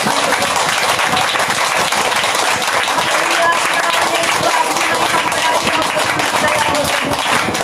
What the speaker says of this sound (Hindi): ताली बजा के धन्यवाद का बचान करें।